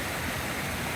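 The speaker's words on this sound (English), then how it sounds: "So, beautiful stream." Steady broadband rush of a mountain stream on the Appalachian Trail near Mount Madison, water flowing continuously and fairly loud with no pauses or voices.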